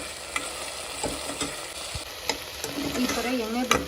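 Ginger garlic masala frying in oil for channa masala, a soft continuous sizzle punctuated by occasional clicks and scrapes of stirring in the pan, quiet and close, with no one talking.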